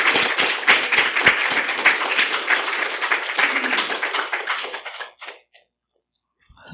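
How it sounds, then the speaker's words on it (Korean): A church congregation claps loudly in welcome for a visiting preacher, a dense burst of many hands that thins into scattered claps and stops, leaving near silence before a faint sound at the end. "지금 나오실 때 여러분 큰 박수로 함께 환영하면 좋겠습니다."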